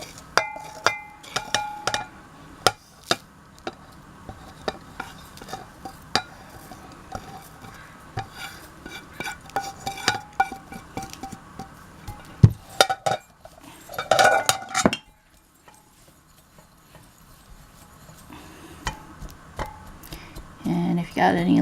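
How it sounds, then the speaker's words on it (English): A spoon clinks and scrapes against a bowl as sugar, nutmeg and cinnamon are mixed, with irregular sharp taps, a short pause near the end, and then more stirring. "I'm going to take our sugar and our spices and mix them all"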